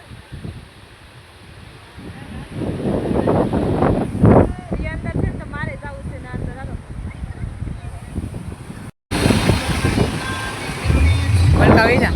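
Sea waves at Uncha Kotda wash and rumble steadily with wind buffeting the microphone while people talk over the surf.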